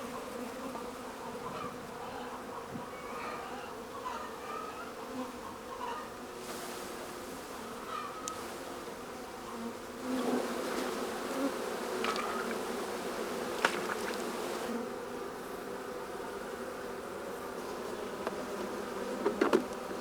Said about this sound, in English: You have a bee on your lens.